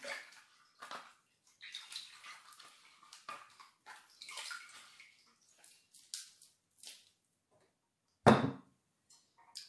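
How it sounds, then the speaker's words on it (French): Intermittent splashing and sloshing of water as an apple is washed by hand in a bowl, close and quiet with irregular bursts, then a sharper knock near the end, no speech. "On va laver notre pomme parce qu'on a besoin de la laver"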